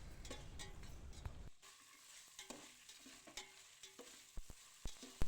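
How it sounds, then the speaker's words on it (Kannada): Sliced onions fry in a hot pan for chicken biryani, a steady close sizzle broken by sharp clicks and scrapes of stirring, growing louder after a brief pause near the start. "ಈಗ ಸಣ್ಣದಾಗಿ ಉದ್ದಕ್ಕೆ ಹಚ್ಕೊಂಡಿರುವಂಥ ಈರುಳ್ಳಿನ ಹಾಕ್ಕೊಂಡು ಫ್ರೈ ಮಾಡಿ."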